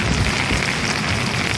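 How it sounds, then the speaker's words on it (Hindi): Heavy rain pours down steadily in a dense, unbroken hiss close by, loud and constant with no voices over it. "बड़ी ही सख्त किस्म की बारिश है"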